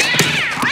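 A cat in the animated movie Soul lets out a loud, drawn-out, wailing meow that bends up and down in pitch, close and alone for under a second.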